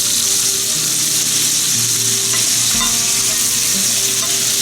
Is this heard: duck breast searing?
yes